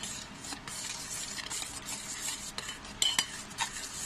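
A spoon stirs chukku malli masala powder into liquid in a cooking pot, giving soft, continuous scraping and swishing with a few sharper clinks near the end, fairly quiet and close.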